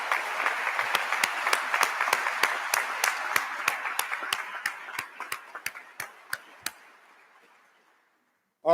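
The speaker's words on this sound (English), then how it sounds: "a round of applause to all of you" Applause from an audience at a college business school ribbon-cutting, a steady run of distinct claps over a soft crowd wash that thins and fades out, ending in silence.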